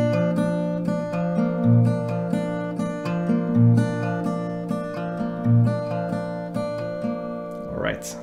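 Acoustic guitar slowly strumming a section of a song, with steady sustained chords in a repeating rhythm, close and clear, ending with a brief scrape at the close.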